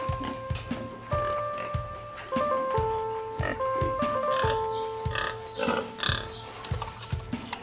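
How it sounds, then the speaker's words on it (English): Exotic-breed pigs in Bhutan grunt and oink repeatedly in short bursts, with a steady tonal melody playing alongside. "The different exotic breeds of pigs found in the country"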